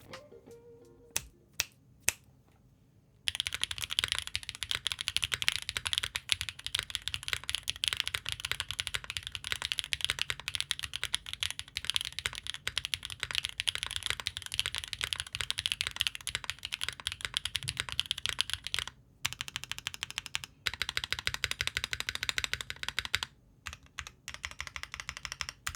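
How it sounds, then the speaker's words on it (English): Fast, continuous typing on a DROP CSTM65 keyboard fitted with Dragon switches, crisp close-up clacks in a dense stream after a few isolated keystrokes, with brief pauses near the end. "Here's the typing test."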